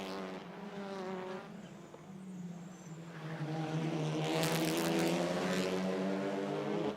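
Race cars, an Audi and a Honda Civic, scream past on a street circuit, their engine notes rising in pitch as they approach and growing louder, heard from a distance.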